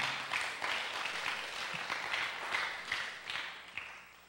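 An audience at a church youth fellowship claps for the Lord, steady moderate applause of many hands, slightly distant, rising and falling in small swells without speech over it.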